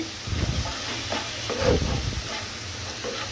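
Spiced food with chili powder frying in a pan as it is stirred, a steady sizzle and hiss with scraping stirring strokes throughout, close and fairly loud.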